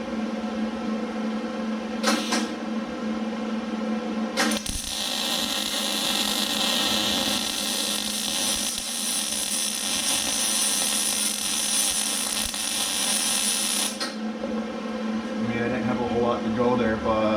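MIG welder running a bead on thin 60-thou sheet metal, a loud steady crackling buzz of about ten seconds after a short test burst, close by, with someone talking near the end.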